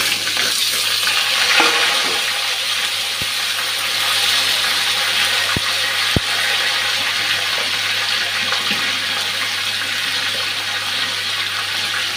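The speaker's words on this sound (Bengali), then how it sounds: "এখন আলুটা ভেজে নিচ্ছি।" Potatoes frying in a pan for a katla fish curry with potato, giving a steady, loud, hissing sizzle throughout. A few sharp clinks sound against the pan, and nobody talks.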